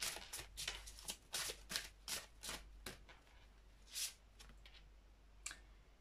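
Tarot cards being shuffled and drawn, a run of quick crisp riffling snaps and flicks at close range, fairly quiet, with pauses and a couple of later single card sounds, no talking.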